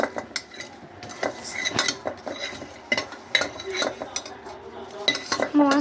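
Masala stirred in a pan with a metal spoon gives repeated sharp scrapes and clinks against the pan in an irregular rhythm, close and alone over a faint background.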